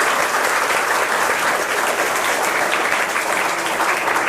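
School students at a quiz game clap loudly and steadily as a group, a dense burst of applause filling the room throughout without any speech.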